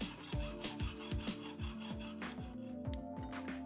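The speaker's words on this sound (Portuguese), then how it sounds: "E a gente vai moldar esse lado na lima" A screw head is worked back and forth against a fixed metal file, giving regular rasping strokes at a steady rhythm, close and fairly quiet with no voices.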